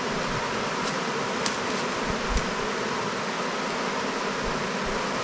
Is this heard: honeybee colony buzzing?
yes